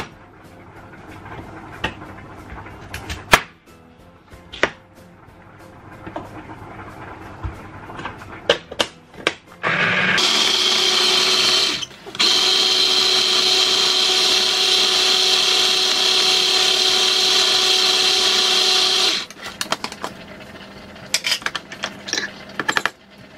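A food processor grinds small-cut cauliflower pieces into cauliflower rice, a loud steady whirring roar for about nine seconds, broken briefly once, preceded and followed by clattering clicks and knocks of handling the machine.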